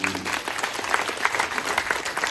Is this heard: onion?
no